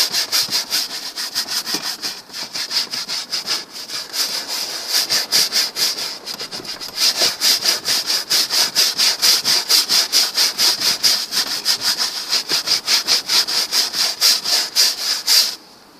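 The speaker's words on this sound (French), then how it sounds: "on vient et puis on frotte" Steady rhythmic scrubbing of a greasy, dirty surface with a degreasing wash product, a dense rubbing stroke repeated fast and continuously, close and fairly loud with a brief pause near the start and no talk.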